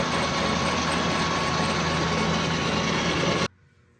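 A metal lathe facing off wheel centering rings, a loud steady machine rumble and hum running unbroken for three and a half seconds, then cutting off abruptly to near silence.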